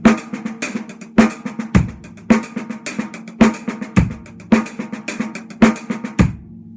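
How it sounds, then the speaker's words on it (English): A paradiddle played on a drum kit, alternating between hi-hat and snare with bass drum kicks on beats 1 and 3. The pattern is close and clear, a steady repeating groove of sharp strokes with no talk. "I'm playing the paradiddle between the hi-hat and the snare drum and adding a bass drum on beats 1 and 3"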